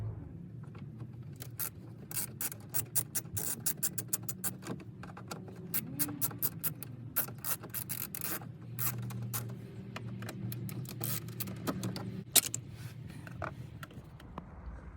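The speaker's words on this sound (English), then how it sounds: "there's gonna be two Phillips head screws. 1 and 2. We're gonna remove those." Two Phillips head screws are backed out of the climate LCD panel of a Porsche 986 Boxster or 996 911, heard as quiet, close ratcheting clicks and small creaks and scrapes running steadily over a low background hum.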